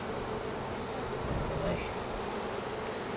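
Honey bees buzz steadily in a dense, continuous drone as they fly in and out at the hive carrying pollen, close and even throughout with no talking.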